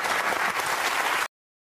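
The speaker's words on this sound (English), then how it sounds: "Give him a round of applause, everyone." Studio audience applause on a daytime talk show, a steady burst of many hands clapping together for just over a second before it cuts off abruptly into silence.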